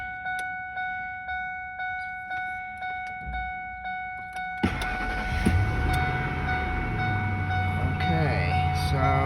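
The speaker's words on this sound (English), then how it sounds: "so truck starts" A 2001 Ford F-150 pickup, recently fire-damaged at the instrument cluster, gives a string of regular warning chimes before its engine abruptly cranks and catches, then settles into a loud, steady idle.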